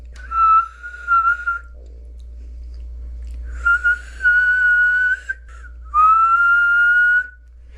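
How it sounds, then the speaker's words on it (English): A person whistles clear, sustained notes in three separate bursts with short pauses between, close and loud. "Probably the best whistle I've ever done in my life, that last one."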